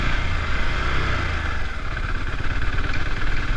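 A KTM Duke 690 single-cylinder motorcycle engine chugs steadily at low revs, a loud, close, thumping idle-like rumble with no talk.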